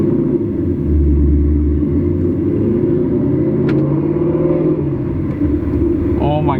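A Ford Mustang GT with a manual gearbox idles and pulls away, its deep engine rumble steady and close, with the pitch shifting as it moves off.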